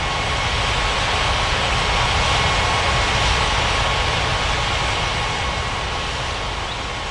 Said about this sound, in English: Cleared for takeoff runway 35